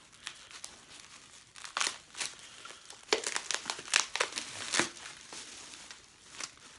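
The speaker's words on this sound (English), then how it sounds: "I'll see if I can take it out of the plastic wrap just to show you that" Plastic wrap crinkles and tears as it is pulled off a large airsoft drum magazine for a CYMA CM052 RPK, close and busy with bursts of crunching through the middle and brief quieter gaps.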